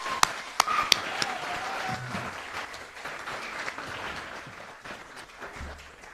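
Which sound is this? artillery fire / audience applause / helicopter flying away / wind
audience applause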